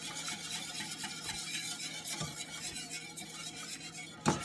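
Sugar and melted butter whisked in a bowl for a Jamaican spiced bun, a steady soft scraping swirl with faint clinks of the whisk against the bowl and one sharper knock near the end, no talking.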